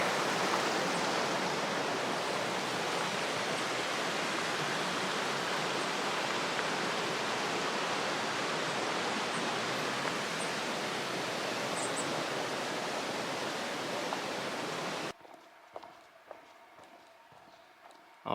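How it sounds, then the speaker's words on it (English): Trout Creek rushes steadily at a trail crossing on the Pacific Crest Trail, a loud, dense broadband wash of flowing water that cuts off abruptly near the end, leaving faint footsteps. "This is the crossing for Trout Creek."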